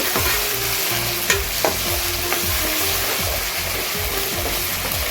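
Onions fry in oil for bagara rice with a steady, loud sizzle, while a spoon scrapes and stirs the pan in repeated strokes close by.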